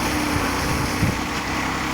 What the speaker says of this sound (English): Using the tractor to spread the lime.